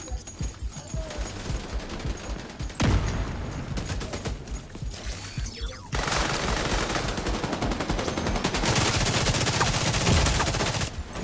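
Sustained bursts of automatic enemy gunfire in The Division video game, loud and close, rattling in dense volleys with brief gaps and a sharp new barrage midway.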